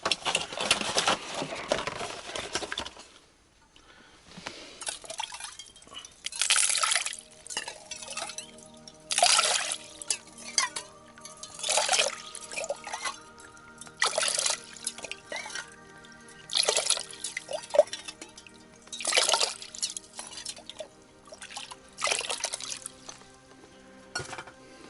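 Inside an ice-fishing tent with a stove, on the ice at night, water drips in a steady, close run of distinct drops. Small clinks sound between them, and it is otherwise quiet.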